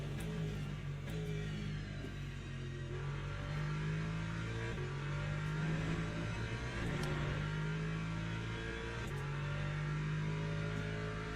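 Race car engine in the racing game Le Mans Ultimate, a continuous loud engine note rising and falling through gear changes and revs, with no voices over it.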